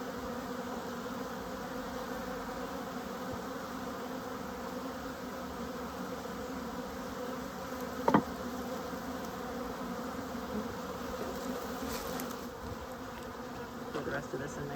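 Honeybees from a package being installed into a top bar hive hum in a soft, continuous buzz that holds steady throughout, with a single brief click partway through.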